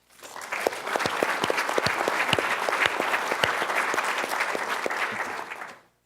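An audience at a healthcare management and policy talk breaks into sustained, dense applause welcoming speaker Sheryl Skolnick, rising quickly, holding steady for several seconds and then fading out.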